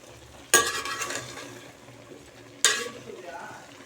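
A cooked dish of kesindri palya, a Malnad greens stir-fry, being stirred in a pan: two sharp scraping strokes a couple of seconds apart, each trailing off into a soft sizzle.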